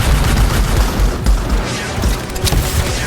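Weapons fire in the video game Anthem during a fight with elite outlaws: dense, loud bursts of shots and booms that run across the whole stretch with almost no gaps, with no one talking.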